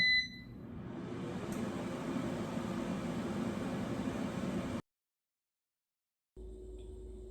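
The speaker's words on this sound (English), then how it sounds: "And now put the basket back in the air fryer and let it finish cooking." An air fryer cooks frozen Eggo waffles with a steady, even whirring hum for about five seconds. It then cuts to silence, and a similar hum returns briefly near the end.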